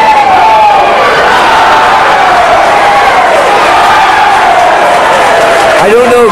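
Wrestling crowd at an FPW Colossalcade 2 match between Chris Cayden and Cyclone Jones, a steady loud roar of cheering that fills the whole stretch, with a voice rising and falling faintly above the noise.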